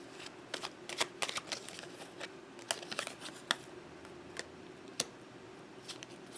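Tarot cards are shuffled by hand in a quick, irregular run of crisp riffling snaps and flicks, close and fairly quiet, with no talking.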